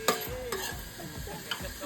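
Onions and curry leaves fry and sizzle in a pan while being stirred, with a steady close sizzle broken by a few distinct scraping stir strokes, no voices.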